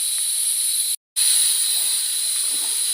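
Chopped ivy gourd sautés in a hot pan, giving a loud, steady, close sizzling hiss that breaks off for a moment near the start before carrying on evenly, with no voices.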